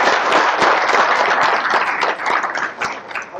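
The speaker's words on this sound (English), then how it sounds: "Let's give them all a round of applause." Attendees at a 2014 college football press conference give a round of applause, with many hands clapping close and loud and sharp individual claps standing out from the steady wash.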